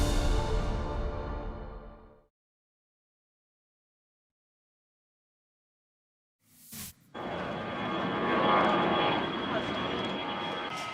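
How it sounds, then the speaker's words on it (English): China's C919, its first domestically developed passenger jet, on its maiden-flight takeoff from Shanghai. A brief sound fades into a quiet gap, then a loud, steady jet engine roar swells in and holds to the end. "And that was takeoff for China's first domestically developed passenger jet."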